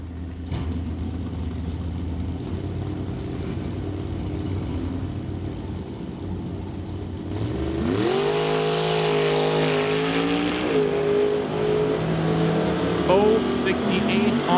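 A Ford Mustang lines up against a second car at a drag strip: a deep, rumbling engine idle gives way to a loud roar with revs climbing sharply as the cars launch, over steady background noise.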